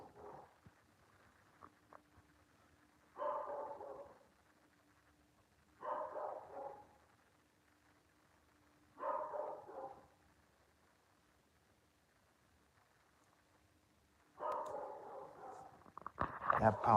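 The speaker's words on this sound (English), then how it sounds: "I apologize for my dog barking in the background." A pet dog barks in short bursts somewhere in the background of a room during a family game night, each bark sitting apart from the rest and recurring every few seconds.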